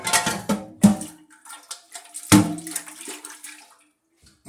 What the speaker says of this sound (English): And rinse out the pot.